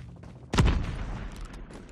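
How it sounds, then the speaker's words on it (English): A single loud KN44 assault rifle shot bursts out in a competitive first-person shooter match, a sharp near blast with a rumbling tail that fades over about a second, alone without talk. "Ooh, nice shots."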